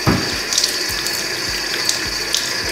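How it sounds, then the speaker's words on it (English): Water runs steadily from a bathroom tap into a sink while a face is rinsed. It is a continuous close splashing stream with small irregular splatters. "I rinse it off."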